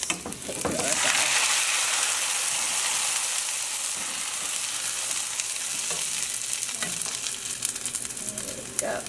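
Tofu noodles are dropped into a hot pan and fry with a loud, steady hiss that swells almost at once and holds, broken by a few faint clicks of stirring.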